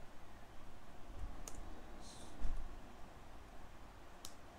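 Keys tapped on a computer keyboard while a password is entered into a Linux terminal: a few sparse, faint clicks spread over several seconds against quiet background hiss, with no voices.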